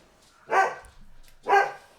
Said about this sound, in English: Sorry, dog noises.